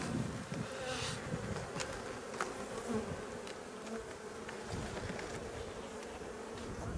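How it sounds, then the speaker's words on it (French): Honeybees drone steadily around an open hive as a beekeeper works the boxes. Dense, continuous buzzing fills the whole stretch, close and fairly loud, with faint scrapes and handling knocks and no voices. "Je fais attention de pas rater l'abeille."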